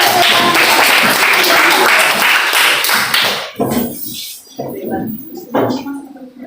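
A classroom of students claps together in a dense, lively burst for about three seconds, then the applause fades and a teacher's voice takes over with short spoken phrases.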